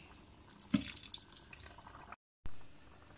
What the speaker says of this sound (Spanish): Y añado el vinagre.